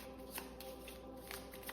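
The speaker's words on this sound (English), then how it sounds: "as I'm sitting here shuffling" A deck of cards shuffled by hand, faint riffling bursts repeating a few times over a quiet low hum, no voice.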